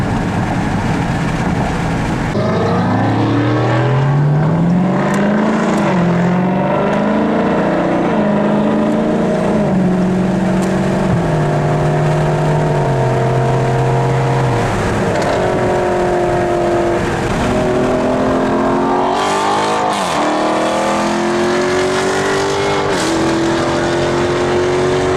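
A 2016 Dodge Charger Scat Pack with a 6.4L engine and a cold air intake accelerating hard, loud engine roar rising in pitch through several gear changes, heard from inside the car.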